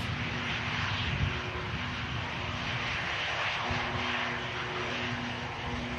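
A Loganair propeller aircraft at Manchester Airport drones steadily with a loud, continuous engine roar and a faint tonal hum, heard from a distance and alone throughout.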